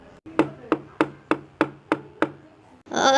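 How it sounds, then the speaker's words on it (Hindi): Someone knocks on a house door at night with seven sharp, evenly spaced raps, loud and close, before a voice begins to speak. "अपने घर के बाहर खड़े रहकर दरवाज़ा खटखटाते हैं"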